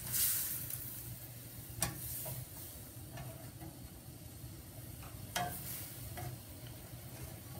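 Garlic frying in a pan for shrimp scampi: a soft, steady sizzle with occasional clicks and taps of a utensil stirring, fairly quiet and close, with no talking.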